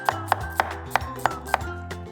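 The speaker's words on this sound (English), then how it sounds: "cut it right in half, and then we're gonna do 1/4-inch thick slices" Knife chopping a vegetable into quarter-inch slices on a cutting board, six sharp, evenly spaced chops close up over a low steady hum.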